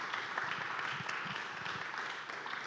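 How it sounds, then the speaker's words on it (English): Audience applause fills the room after a talk by Monica Haslip, founder of Little Black Pearl, a steady wash of many hands clapping at moderate loudness without a break. "Let's give her a round of applause."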